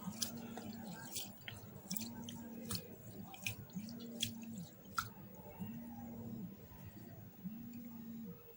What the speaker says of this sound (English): I'm going to start out by washing my rice water to remove any dirt that is on the rice